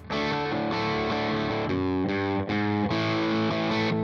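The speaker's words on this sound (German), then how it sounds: "bin dann auf die Bariton-Gitarre, auf diese etwas tiefere Klangfarbe gewechselt" A heavy, distorted baritone electric guitar plays a low, thick riff of sustained chords changing every half second or so, loud and continuous with no voices.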